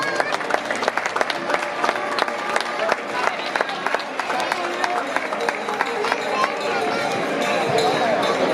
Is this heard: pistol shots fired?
no